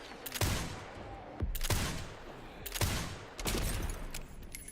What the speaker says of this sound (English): Did he just get exploded by the explosion?